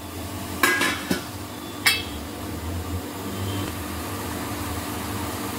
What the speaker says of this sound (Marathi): तर झाकण ठेवते मी त्याच्यावर।